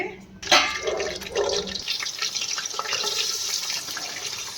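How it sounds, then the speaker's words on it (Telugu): Cooking oil pours into a brass pan just rinsed with hot water, a close, steady stream that starts abruptly and runs on as a continuous liquid hiss. "నూనె పోతున్నామండి"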